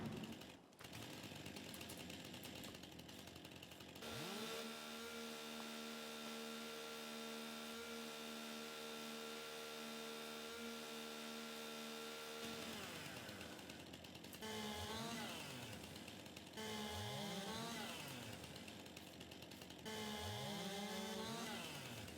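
A Farming Simulator chainsaw cutting up a felled tree, a sustained buzzing engine drone that holds steady, then revs up and down in repeated rising and falling sweeps as it bites into the log.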